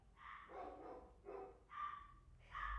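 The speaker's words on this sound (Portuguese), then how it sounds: "barulho dos cachorros latindo" Several dogs barking in bursts at some distance, faint and repeated, with short pauses between the barks.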